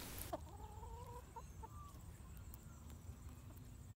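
Faint young hens clucking softly in short bursts in a paddock, with a brief knock near the start and a quiet outdoor background.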